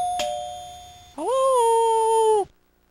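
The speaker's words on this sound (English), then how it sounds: "Doorbell ringing, woman saying hello." A doorbell sample from an Amiga computer rings: a faint chime fades out, then a clear two-tone ring sounds loud and sustained for over a second before cutting off abruptly.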